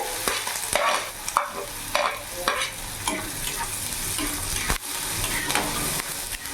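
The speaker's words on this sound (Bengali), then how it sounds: "যতক্ষণ না পেঁয়াজের কাঁচা গন্ধটা যাচ্ছে, পেঁয়াজটা ভাজা ভাজা করে নেব।" Finely chopped onion fries in hot refined oil, giving a loud, constant sizzle broken by repeated scraping strokes of a spoon stirring the pan. No voices are present.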